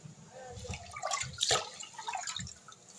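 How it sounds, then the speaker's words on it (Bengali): Katari bhog rice is rinsed under running water in a home kitchen, with soft trickling and splashing and a few light knocks of grains and pot, faint and close. "ভাতের চালটা ধুয়ে নিতেছি"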